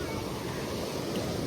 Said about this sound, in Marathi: खूप पाऊस झाल्यामुळे पाण्याचा फ्लो पण वाढलाय.